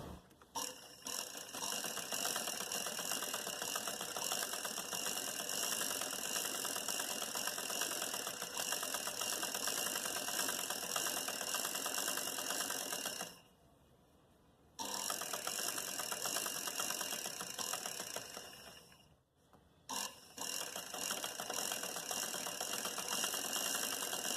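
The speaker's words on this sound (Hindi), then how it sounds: "इस पर फोल्ड करके सिलाई कर लेंगे।" A sewing machine runs in long steady bursts as it stitches a folded fabric strip onto a salwar hem, a dense close mechanical whir that pauses briefly twice, with no talking.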